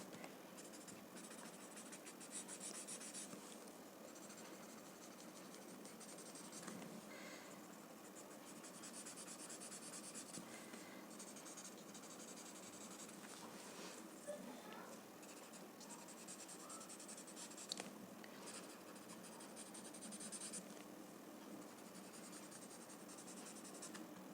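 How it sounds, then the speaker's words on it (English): Graphite pencil blended softly across paper, a faint, continuous dry scratching and rubbing close by, steady for the whole stretch with small strokes and no talk. "with a very soft hand, not going too much towards the other end, just blend the graphite."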